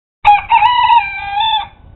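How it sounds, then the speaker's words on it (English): A rooster crows once up close, a loud, sustained harmonic call lasting over a second, with faint low rustling beneath. "let's get a close-up on this rooster"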